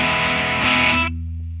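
Electric guitar chord run through a distortion pedal in a guitar effects signal chain, a thick saturated crunch that rings loud then cuts off abruptly near the end, leaving a low hum.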